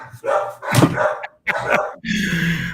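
A voice imitates a dog barking in the house, giving a few short, loud woof-like bursts separated by brief pauses, close to the microphone.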